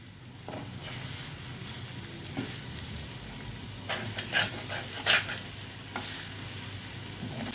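Ivy gourd fry coated in gram flour is stirred in a hot pan, a close steady sizzle broken by scraping strokes and a few louder clattering knocks.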